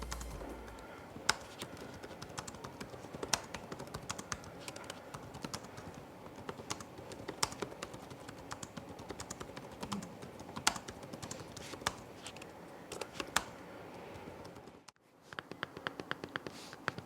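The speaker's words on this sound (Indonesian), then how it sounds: "hasil pengujian input untuk keyboard dan juga untuk touchpad-nya" Someone types steadily on the keyboard of an ASUS Vivobook S14 S3407VA laptop, a close, quick clatter of key presses that runs nonstop apart from a brief pause near the end.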